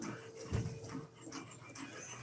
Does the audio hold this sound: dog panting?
yes